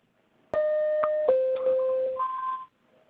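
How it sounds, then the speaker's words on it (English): Double electronic warning tone on a court teleconference call, a loud sequence of overlapping beeps shifting between pitches for about two seconds, with no voices. "and a double tone that sounds like this"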